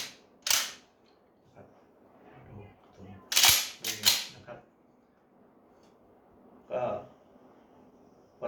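A Remington 870 tactical pump-action shotgun fires several sharp, loud cracks, the first one early, then two close together in the middle, and a last one toward the end, each separated by quiet pauses.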